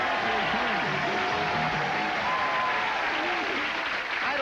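A studio audience at a television game show applauds, a dense sustained wash of clapping heard throughout while a presenter talks over it.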